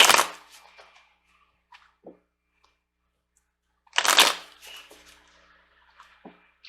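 Tarot cards being shuffled, two short papery riffling bursts separated by a quiet gap, with a few soft taps and card slaps between, close and fairly faint, no talking.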